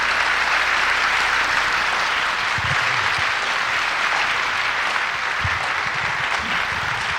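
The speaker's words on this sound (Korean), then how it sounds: "우리 목사님 올라오실 때 박수로 우리 크게 환영합시다" A church revival congregation in LA applauds loudly to welcome the pastor to the stage, dense sustained clapping filling the room from start to finish, a few low thumps within it.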